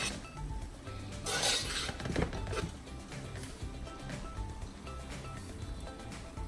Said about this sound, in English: So at this point you stir it.